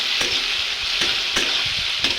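Tomato frying in a pan with a pinch of chili powder, a steady close sizzle throughout with a few soft stirring scrapes, no talking.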